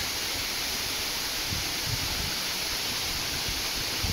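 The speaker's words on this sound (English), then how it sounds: "at the edge of the waterfall" Steady, dense rushing of a forest waterfall heard up close, a continuous broadband roar without breaks and with no voices.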